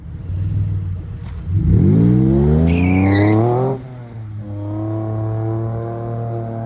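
A 1200HP Vauxhall Corsa racing with a shifted gear selector: the engine revs up loudly with a climbing howl, cuts out abruptly, then picks up again at a steadier pitch, close and alone.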